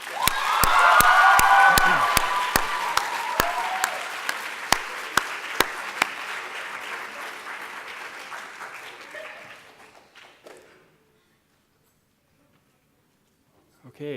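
Loud applause and cheering from a crowd of students for the presenters at Project Soapbox, Akron Early College, with sharp, distinct claps close up over the dense clapping, fading out to near silence after about ten seconds.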